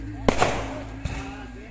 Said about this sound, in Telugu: మా ఇంటి దగ్గర నుంచి చూస్తుంటే చూడండి టపాకాయలు ఎలా పండిస్తున్నారు